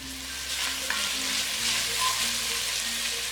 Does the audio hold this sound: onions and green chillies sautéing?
yes